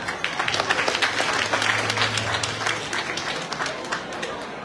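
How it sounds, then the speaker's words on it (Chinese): Guests at a Foreign Affairs Ministry dinner banquet applaud an introduced official: sustained clapping from a sizeable crowd, fairly loud and even, with a low hum beneath and some indistinct murmuring mixed in. "大家请拍手欢迎我们的卢曼"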